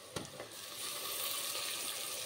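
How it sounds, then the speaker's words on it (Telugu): Onion and tomato pieces frying in a pan for a lentil curry, with a couple of sharp clicks at first and then a broad, even hiss of sizzling that grows slightly louder and holds steady. "టమాటా కూడా బాగా మగ్గేంత వరకు మగ్గించుకోండి."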